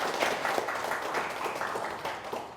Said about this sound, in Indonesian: Boleh dari audiens yang hadir berikan tepuk tangan.